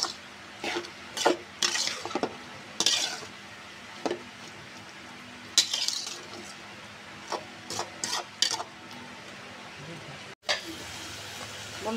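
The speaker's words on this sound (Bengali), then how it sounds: "আলুটাকে আমি আগে সুন্দর করে কষিয়ে নেব।" Salted potatoes being stir-fried in a pan: repeated scraping strokes of a spoon against the metal come in irregular bursts over a low, steady sizzle, close by, with a short silent break near the end.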